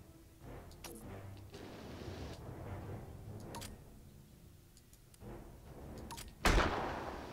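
Cannon fire in the naval game Abandon Ship, a series of dull booms across the clip with a sharp, loud blast near the end, mixed with faint ticking and background game noise.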